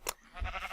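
Minecraft sheep bleat on a small sheep farm, a short bleat up front followed by a softer, wavering second bleat, close and alone with no talk.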